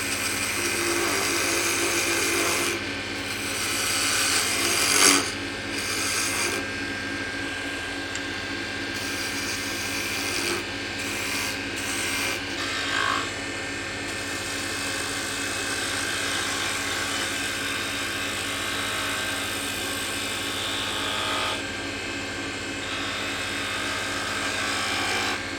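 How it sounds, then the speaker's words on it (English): Wood lathe spinning a snowman box lid while peeling cuts are taken, a steady mechanical whir with intermittent scraping bursts as the tool bites, moderately loud and continuous. "We're going to reduce this down some, so I'm going to do some peeling cuts."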